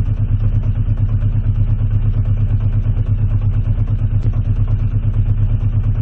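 A Honda CB650C motorcycle's inline-four engine runs loud and close during a pilot screw adjustment, giving a steady, even, throbbing idle-to-rev drone with no breaks.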